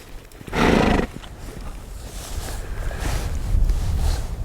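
A horse gives a loud, close whinny near the start during a cattle-working session, followed by a steady rumble of hooves and movement that continues to the end with no talking.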